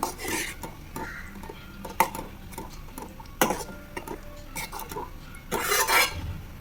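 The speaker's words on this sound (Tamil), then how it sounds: "இதை நல்லா கிண்டி விட்டுருங்க ஒரு தடவை." A spoon scrapes and clinks against a metal pot of simmering vatha kuzhambu in irregular strokes, close up, with quiet gaps between stirs.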